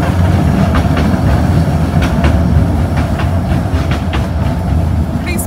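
Two trains passing each other in Calgary in winter, with loud, close rolling rumble and rhythmic clickety-clack of wheels over rail joints, heavy and continuous throughout.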